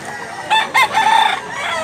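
A tall yellow-legged sweater gamefowl rooster gives a short, loud crow up close in a Cebu yard, opening with two sharp bursts before a brief sustained call over faint background noise.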